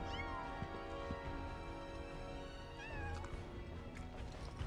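Fluffy the cat meowing in Final Fantasy VII Rebirth, two or three plaintive rising-falling meows over a low steady game ambience and scattered small clicks, fairly quiet.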